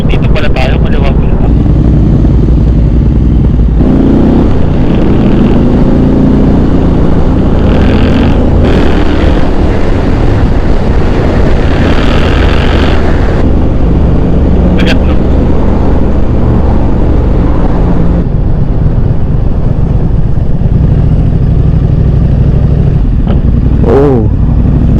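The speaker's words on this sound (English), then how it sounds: "So this is our last ride with the Triumph." Riding a Triumph motorcycle, a steady loud engine drone and wind rush fill the ride, with speech and passing traffic over the continuous road noise.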